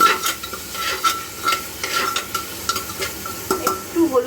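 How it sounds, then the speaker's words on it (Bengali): Potatoes frying in a pan are stirred with repeated scraping, clattering strokes over a steady close sizzle, with no talking. "আলুটা দিয়ে দিলাম। এবার নাড়াচাড়া করতে হবে"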